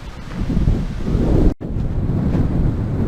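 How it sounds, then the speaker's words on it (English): Heavy wind buffets the microphone with a loud low rumble while riding a Ninebot One E+ electric unicycle, briefly cutting out for a moment midway before the roaring gusts resume. "Really windy."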